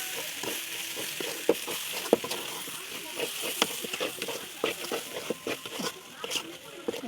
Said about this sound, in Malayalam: കുരുമുളക് പൊടി ഇതൊക്കെ നല്ലോണം മിക്സ് ചെയ്യാം